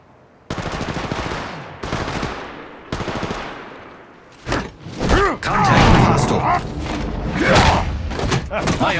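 Rapid automatic gunfire from the mobile shooter Apex Legends Mobile rattles loudly in long bursts with short gaps between them, then gives way to a dense mix of shots, impacts and game effects.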